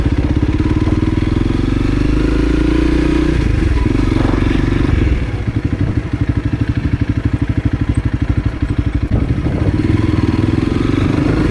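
A Honda CRF300L motorcycle engine rumbles steadily up close as the bike rides slowly through a crowd on a busy path, the pitch shifting with throttle and a faster pulsing putter midway, with faint background murmur.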